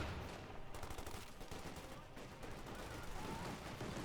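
Rapid gunfire from an anti-tank gun crew shooting at infantry in Company of Heroes 2, a dense, steady crackle of battle that stays fairly faint and continuous throughout, with no clear pauses.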